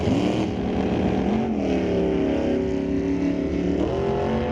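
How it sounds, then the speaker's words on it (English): A 1971 Dodge Demon and a 1967 Camaro launch side by side at an NHRA drag strip, a loud continuous engine roar with rising and falling revs across the whole stretch. "Fred Hoffman got off the line nice and tidy."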